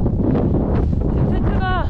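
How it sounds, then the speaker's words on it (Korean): Strong wind gusts roar steadily through a snowy winter backpacking campsite, buffeting the microphone loudly and continuously, with a person talking over it. "오늘 바람이 없다 그랬는데. 왜 이렇게 많이 부는 거예요?"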